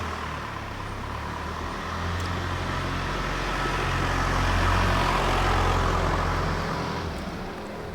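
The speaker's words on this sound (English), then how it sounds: "And I'll let this truck get by me." A truck drives past on a road, its broad rumbling engine and tire noise rising steadily to a close, loud peak before easing off as it moves away.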